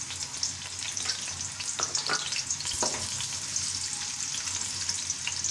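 Crushed onion frying in hot ghee in a pan for bhuna gosht: a loud, steady, close sizzle and crackle, with a few faint scrapes from stirring, and no voices.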